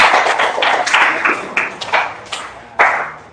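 Class clapping hands in a classroom setting, a series of sharp, uneven claps in bursts that fade and rise, fairly close, with a few louder single slaps near the end and little talk.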